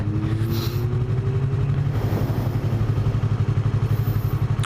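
A Yamaha R3 motorcycle engine drones steadily while riding, a loud, close, pulsing throb with a slight rise in pitch, heard alone without talk.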